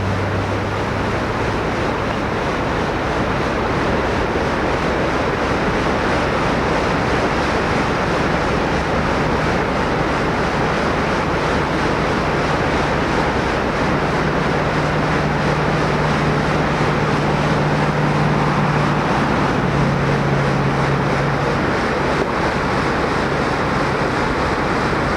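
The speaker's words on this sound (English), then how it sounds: "You can really hear the rushing of the water as we're right next to the river here at this particular locality." Steady, loud broadband rush of a river flowing close by at an outdoor locality, a continuous wash of water noise with a faint low hum drifting underneath and no voices.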